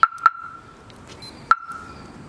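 Short sharp electronic chirps from a car alarm, two quick ones then another after a pause, ringing out clearly against a quiet background.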